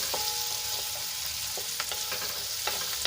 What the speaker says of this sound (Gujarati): અહીંયા સૌપ્રથમ આપણે પહેલા ડુંગળીને સાંતળી લેવાની છે